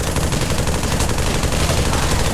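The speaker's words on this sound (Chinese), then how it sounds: "这边架机枪，扫的用扫的" Sustained machine gun fire in the VR shooter Pavlov VR, a dense, loud, unbroken rattle of rapid shots filling the whole moment, with no voices.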